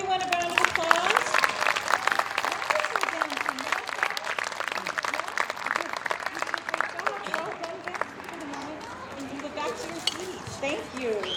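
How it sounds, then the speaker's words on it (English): An audience at a library summer concert of Kathak classical Indian dance claps in a dense, steady round of applause. It fades slightly toward the end while people talk and chatter underneath. "Can we give everyone a round of applause?"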